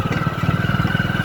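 A motorcycle rides fast along a rough farm track, its engine throbbing in a quick, even pulse, loud and close, with no talk over it.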